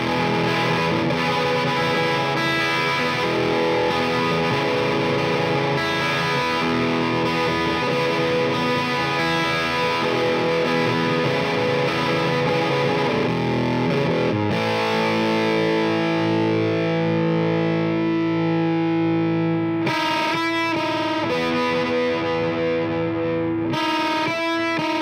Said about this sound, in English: that's the Church of Tone by Love Pedal